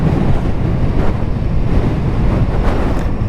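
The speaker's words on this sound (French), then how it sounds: "J'ai eu beaucoup de vent déjà, mais autant que ça, pas souvent" Strong wind buffets the microphone of a motorcyclist riding in winter, a loud, steady, rumbling roar with gusty swells and no speech.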